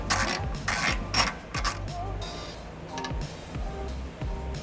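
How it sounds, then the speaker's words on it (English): A 12mm socket and ratchet backs off exhaust hanger nuts under a 2005 Nissan Altima, giving close, repeated clicking ratchet bursts with metallic clanks between strokes. "removing 3 12mm bolts here, or nuts, using a 12mm socket and ratchet"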